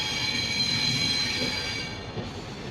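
Steady loud rumble from inside a general-class carriage of a moving passenger train in Assam, northeast India, with high metallic wheel squeal ringing over the clatter of the carriage.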